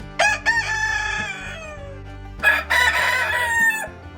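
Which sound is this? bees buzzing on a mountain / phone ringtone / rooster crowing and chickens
rooster crowing and chickens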